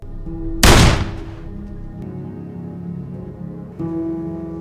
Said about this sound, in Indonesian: Curry melepaskan tembakannya untuk menembus perut Henry